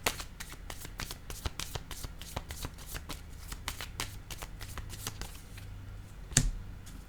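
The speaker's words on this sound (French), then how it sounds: "je vais déposer une carte ici" Playing cards being handled and laid down on a table make a rapid run of crisp, close flicks and soft slaps, steady for several seconds with one sharper snap near the end, and no talking.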